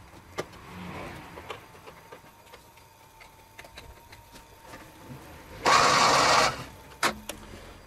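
A Polish Fiat 126p 600 cc engine, about 30 years old, cranks on the starter during a compression test with the carburettor throttle held wide open, a short loud whirring burst near the end amid quieter clicks and a faint hum.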